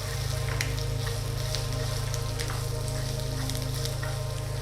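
Curry leaves, fenugreek seeds, cumin and long green chillies fry in hot oil, giving a constant close sizzle with crackling pops, over a steady low hum from the stove.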